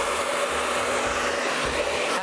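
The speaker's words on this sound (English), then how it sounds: "I'm using a normal hair dryer." Normal hair dryer blow-drying a damp Labrador after its wash, a steady even whooshing drone, close and continuous with no talk.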